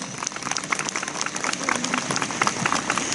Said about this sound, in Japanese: 大きな拍手じゃ。